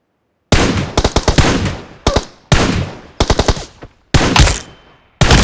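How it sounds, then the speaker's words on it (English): Gunfire in the PUBG Mobile game: several rapid bursts of loud, close automatic shots separated by short pauses, with no talking. "Tap left fire button to shoot."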